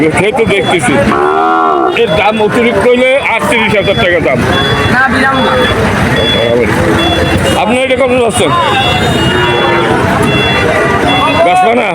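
Calves and cattle moo repeatedly at a busy livestock market, close and loud over a constant crowd of talking voices, with a vehicle's reversing beeps sounding faintly in the background.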